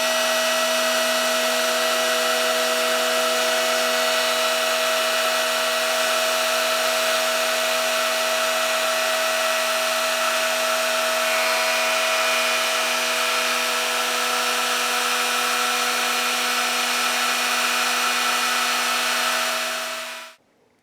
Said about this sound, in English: we've got our router ready, so we're just going to do 1 pass and just go down a couple of mil in that shape